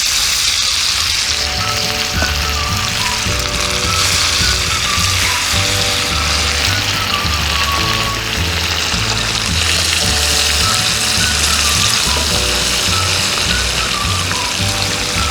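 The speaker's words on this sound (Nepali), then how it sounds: "ल अब तेल तातिसक्यो। अब माछा राख्दैछौँ यसमा।" Fish pieces for a fish curry being laid into hot oil, producing a loud, continuous frying hiss throughout, with steady music playing underneath.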